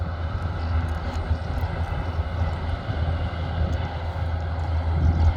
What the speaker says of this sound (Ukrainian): Наш трактор закінчує сіяти амарант на полі Ів-10.